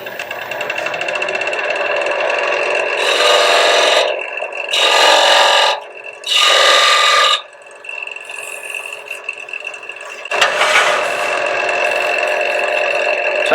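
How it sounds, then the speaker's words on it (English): Diamond point, or pyramid, tool scraping indicating marks into the wood of a handmade box: three loud rasping bursts, each about a second long, in a regular rhythm, then a fourth stroke, all close over a steady mechanical hum. "This is what we call a diamond point tool or a pyramid tool."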